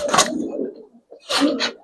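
Pigeons cooing in a loft during a sale of Gribaz coloring pigeons, two soft low coo phrases close by, split by a short pause.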